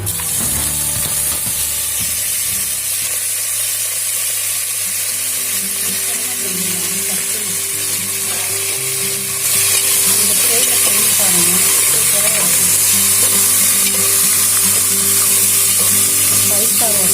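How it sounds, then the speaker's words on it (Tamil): Steady, loud sizzling of mutton frying in hot oil, with bubbling crackle throughout and a brief low voice early on; the sizzle grows slightly louder midway. "மட்டன் நம்ம எடுத்து போட்டுடலாம்."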